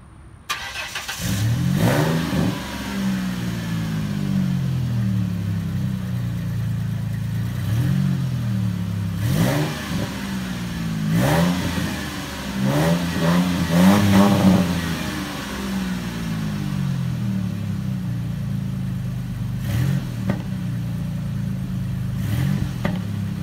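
A 2003 Ford Mustang V6 fitted with Flowmaster 10 exhaust idles with a low burble, then revs up repeatedly in sharp bursts that rise and fall, loud and close, with no talk.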